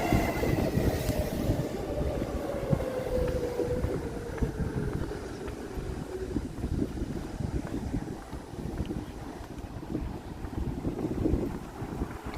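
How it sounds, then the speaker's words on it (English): A train passes on a Tokyo line outdoors, its rolling rumble and a falling metallic whine heard up close, mixed with heavy wind buffeting the microphone throughout. "Oh, that wind is from the train."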